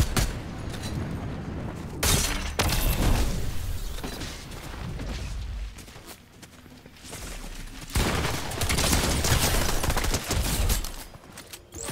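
Bursts of rapid gunfire and booms from a game, loud and dense in two long volleys with a quieter lull between them.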